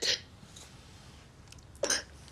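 A girl with asthma coughs twice, two short harsh bursts close by separated by nearly two seconds of quiet room hiss.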